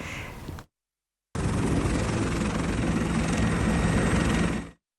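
Helicopter flying to Jayapura airport in Papua, a loud, steady rotor and engine drone that cuts out after a brief opening, then returns for several seconds before ending abruptly.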